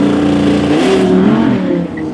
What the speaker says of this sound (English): to put this car on launch control, traction control has to be half off and the gearbox is in S